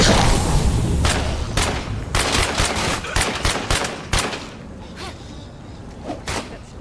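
Gunfire in the video game State of Decay 2: a loud, close burst of rapid shots with uneven spacing, booming at first, then thinning to a few scattered reports and ending in a single last shot.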